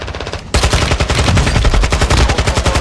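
Rapid, loud bursts of close gunfire in the Call of Duty DMZ video game, a sustained rattling volley of shots after a brief quieter lead-in, with a shotgun among the weapons.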